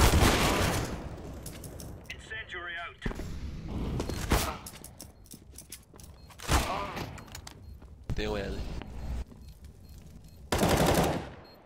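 Rapid bursts of automatic gunfire from a Counter-Strike: Global Offensive round, several loud volleys separated by short gaps, with quieter game sounds between them.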